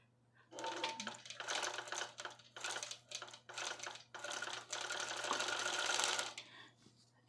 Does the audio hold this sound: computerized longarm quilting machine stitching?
yes